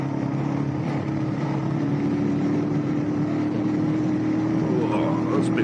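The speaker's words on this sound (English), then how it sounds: "love the noise this bike makes." A motorcycle engine runs at mid and low revs while riding, a steady loud droning hum with rushing road and wind noise throughout.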